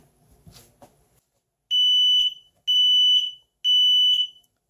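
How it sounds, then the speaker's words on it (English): An AEGISLINK photoelectric smoke alarm with a 10-year battery gives three loud, piercing test beeps, each about half a second long and evenly spaced, following a few faint handling clicks. "press this button here and then you will hear 3 times a very loud beeping sound"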